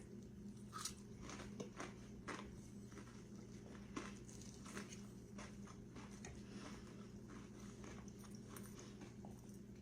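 Crisp, crunchy bites come in an irregular series over a low steady hum, close and fairly quiet, with no talking.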